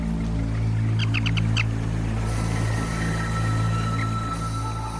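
Birds on a remote island give a quick burst of four or five sharp chirps early on, followed by thin distant calls over a constant steady background hum.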